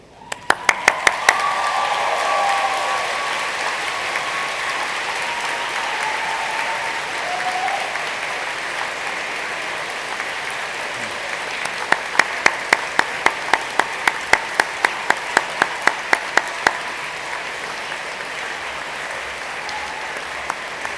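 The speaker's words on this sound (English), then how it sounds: "join me in showing your thanks with a huge round of applause" Graduates at a university media and communication graduation ceremony give a long round of applause in a large hall. It swells quickly, then holds steady, with a run of sharp, distinct claps standing out near the end.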